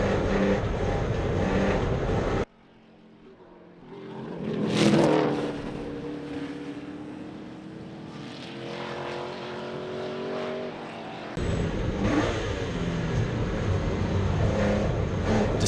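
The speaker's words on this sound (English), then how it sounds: "a thunderous NASCAR. With its unsilenced exhausts, it thunders past Robert" A loud NASCAR race car engine with unsilenced exhausts roars steadily at Brands Hatch, with a brief quieter lull early on, then the full-throated exhaust noise swells back as it thunders past.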